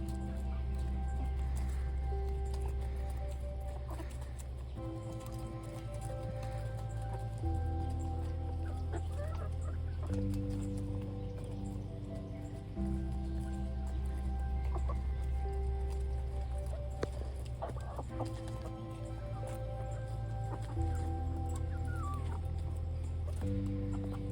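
Chickens cluck and murmur softly on and off inside a coop over a steady low mechanical hum, with occasional sharper squawks nearby.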